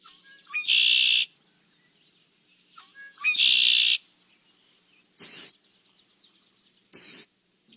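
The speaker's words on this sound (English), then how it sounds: "The red-winged blackbird did this congaree." Red-winged blackbird call in a marsh: two buzzy, trilled conk-la-ree phrases with short lead-in notes, followed by two sharp, clipped whistled chips, spaced a couple of seconds apart, close and clear against quiet background.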